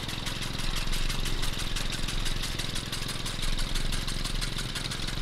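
A vintage tractor engine in a farming survival game chugs steadily at idle, a close, even mechanical putter with a regular pulsing rhythm and no talk.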